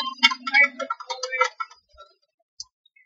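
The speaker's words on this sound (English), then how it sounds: "you're going to shuffle cards, are you? Yeah, it's loud." A mechanical card shuffler riffles playing cards during a Christmas-night deck-building board game, making a rapid, loud burst of ticking clicks for about a second and a half, with a voice over it, then a few soft isolated clicks.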